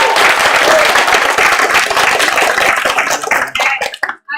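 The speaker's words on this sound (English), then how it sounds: "I just want to clap for both candidates," Audience clapping for both candidates at a university leadership election debate, loud dense applause from a crowd that thins into a few scattered claps and stops.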